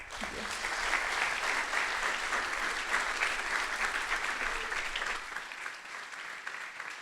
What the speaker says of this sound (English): Please join me in a round of applause as we welcome our panel